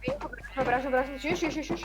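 A sheep in a video game gives a couple of close, wavering bleats in quick succession, fairly clear over a faint steady background hum.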